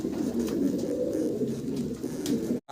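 A male Mundian fancy pigeon coos in a low, rolling, repeated call, close and clear over faint background noise, cut off abruptly at the end.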